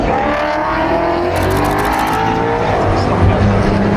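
A Century Motorsport BMW race car roars past on track, a loud, continuous engine note that rises and shifts as it goes by, heard close with no talk over it.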